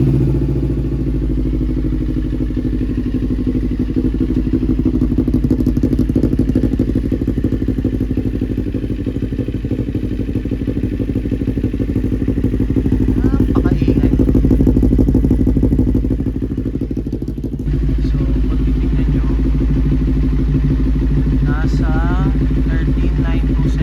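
A Kawasaki NK400 motorcycle engine idling close by during an oil change, a steady throbbing putter with mechanical clatter, continuing without pause.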